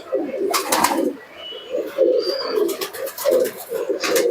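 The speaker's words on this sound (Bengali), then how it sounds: "খুবই সুন্দর কোয়ালিটির কবুতর রয়েছে," Jack breed pigeons cooing close by, a pair with young, giving repeated low throaty coos in a steady rolling rhythm with brief pauses between phrases.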